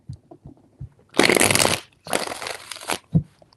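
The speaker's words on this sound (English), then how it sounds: "Four shuffles." A deck of tarot cards riffled in two long, dense bursts of papery rattling, close up, with a few soft taps before and a light thud at the end, no voices.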